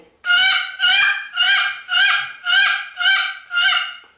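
Seven evenly spaced, loud, nasal yelps from a friction slate turkey call imitating an excited wild turkey hen, in a steady rhythm, close up and without talk.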